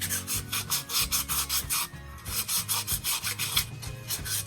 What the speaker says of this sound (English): And I just start randomly distressing it.